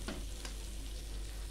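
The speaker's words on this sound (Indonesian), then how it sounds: "Ini matang setengah matang, dibaliknya telurnya itu." An egg frying in a pan as it is flipped, a steady close sizzle with a couple of short scraping turns near the start.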